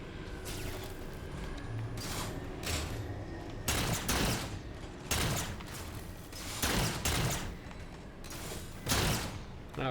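Gunfire in the Halo 4 video game on Xbox One X: bursts of rapid shots crack out in clusters separated by short gaps, loud and close against a low mechanical background.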